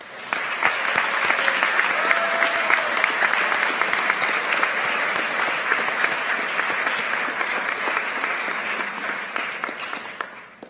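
Audience at a school awards ceremony for science and mathematics students applauds as honorees stand, a sustained, crisp clatter of many individual claps that holds steady for around ten seconds before tapering off.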